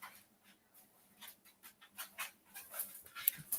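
Dogs indoors whimpering and panting: soft, rhythmic breathy pants and faint whines repeat close by, growing a little louder and quicker toward the end, with no talk.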